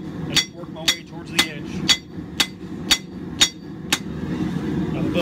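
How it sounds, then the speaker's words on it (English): A hammer strikes scrap steel over and over while forging the edge bevel of a Viking axe, about eight sharp ringing blows in a steady rhythm, close and loud, with a low background hum. "So I'm gonna go ahead and forge in the edge bevel"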